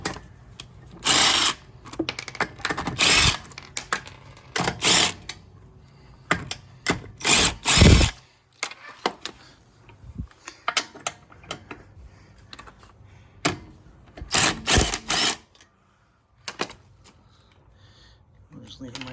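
A DeWalt 18-volt impact wrench with a 19 mm deep-well socket zips lug nuts off a wheel in loud, short bursts separated by gaps, with voices talking in between.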